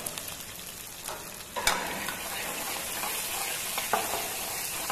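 Cumin seeds fry in hot oil in a pan, giving a continuous close crackling sizzle with a few louder pops and stirs.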